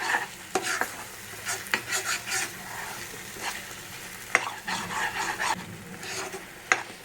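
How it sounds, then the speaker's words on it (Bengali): Spices with turmeric and chili powder are stirred and fried in oil. A soft sizzle runs under intermittent scraping strokes of a spoon against the pan, close by. No speech. "হলুদ গুঁড়ো লঙ্কার গুঁড়ো নুন মিষ্টি দিয়ে এটাকে এবার নাড়াচাড়া করবো কষিয়ে নেবো"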